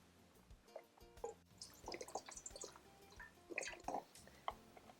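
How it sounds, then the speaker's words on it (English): Vegetable or chicken broth, 32 ounces, poured into a large pot, a soft, uneven trickling and splashing of liquid with faint drips, fairly quiet and without talk. "add your vegetable or chicken broth to a large pot, and this is 32 ounces"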